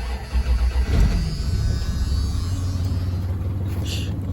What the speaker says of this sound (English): Cold start this morning, y'all.